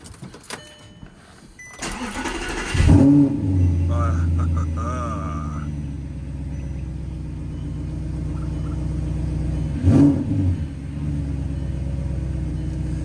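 A first-generation Audi R8 engine starts with a loud crank and settles into a deep, steady idle, then a short rev swells partway through before the idle rumble continues close by.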